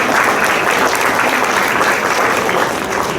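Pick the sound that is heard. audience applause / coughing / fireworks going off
audience applause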